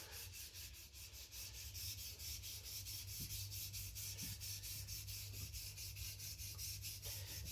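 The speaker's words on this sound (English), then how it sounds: "I'm sharpening the main bevel here" A gyuto chef knife is drawn along a sharpening stone on its main bevel, giving faint, rhythmic gritty rubbing strokes repeated steadily and close by, with no talking.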